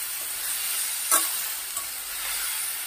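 Ivy gourd stir fry is stirred in a pan over medium flame, with a steady close sizzle and a sharp scraping burst partway through, no voices.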